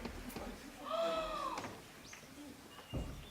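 A cuckoo given as a gift in a stage play gives a short tonal call in the middle of the clip, with stage noise and voices around it.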